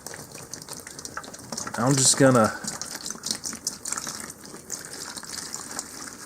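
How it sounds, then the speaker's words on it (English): Water pours from an old plastic milk jug into a worm bin of peat moss, giving a soft, continuous gushing splash that runs under and after brief talking, close but faint. "put some water in here."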